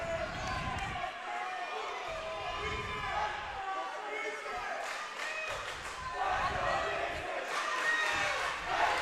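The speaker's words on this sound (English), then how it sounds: "This crowd erupts for that." Crowd noise in a high school gym during a wrestling match, Sussex Central at Caesar Rodney, a steady roar of voices swelling into louder cheering bursts toward the end, with a commentator talking over it.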